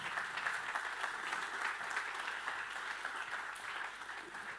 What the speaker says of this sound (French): les applaudir tous les deux.